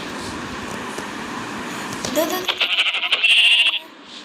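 A goat bleats in the video game Minecraft, a few wavering bleats rising clearly near the end over a low background hum, with a voice talking beforehand.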